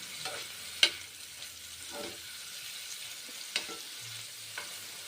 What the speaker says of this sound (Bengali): প্রথমে ছানাটা আমি ভেজে নিচ্ছি দাওয়া ঘি দিয়ে